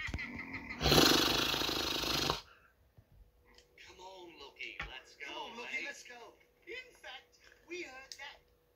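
A cartoon lion's loud, sustained roar bursts out for about a second and a half in an animated film, then cuts off as speech continues over it.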